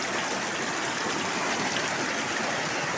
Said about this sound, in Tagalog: Ganda ng ilog.